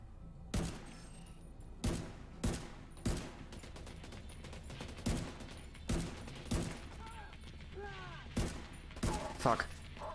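Gunfire in The Division 2 cracks out in a string of sharp single shots at irregular intervals, with a few whistling electronic effects between them.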